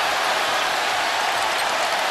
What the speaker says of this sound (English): A little ridicule applause.